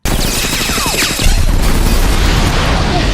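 A loud kitchen explosion in the film Mr. & Mrs. Smith, bursting suddenly into a sustained roaring blast with crackling debris that carries on to the end.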